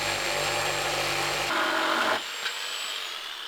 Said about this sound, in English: I'm going to cut this template out of the wood